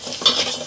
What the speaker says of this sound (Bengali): আম্মু হচ্ছে মুগ ডালটা ভেজে নিচ্ছে